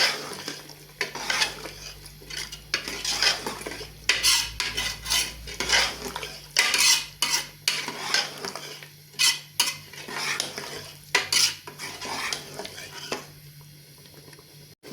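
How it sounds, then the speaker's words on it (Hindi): Chickpeas roasting in oil in a pan for a curry, stirred with a metal spoon: repeated scraping clatters of utensil on pan over a low steady sizzle, close and fairly loud, no talking. "अब इसको भूनते हैं, 1 से 2 मिनट के लिए इसकी बुनाई करते हैं।"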